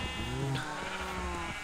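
Sheep bleating in a video game, a single wavering synthetic bleat up close, fairly quiet and clean against a faint background.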